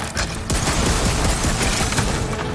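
A cannon fires in Horizon Burning Shores, producing a dense, loud barrage of booming blasts and mechanical clatter that rolls on without a break, close and heavy, with no voices.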